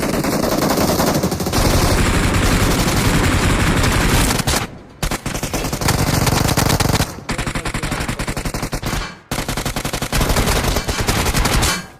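Rapid automatic gunfire from a mobile battle royale game, BGMI on the Livik map, loud and dense with long sustained bursts broken by two brief pauses.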